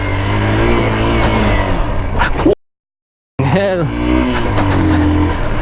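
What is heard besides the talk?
X-Pulse 200 motorcycle riding off-road up the wall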